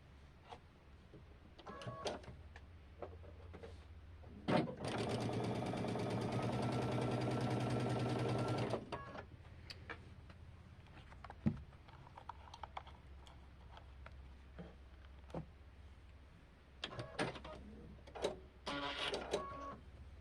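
A sewing machine joins cream fabric triangles to a green square for a River Rock Star quilt block. It runs in one steady burst of about four seconds, with quieter handling noises before and after.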